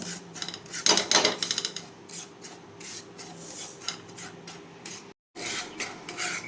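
Dry semolina being roasted in a pan, with a spoon stirring and scraping across the metal in quick rasping strokes, close and alone.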